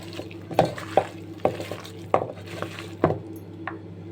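Cut jackfruit being mixed by hand with masala for kebab, a series of soft, wet squishing strokes roughly every half second, close and alone.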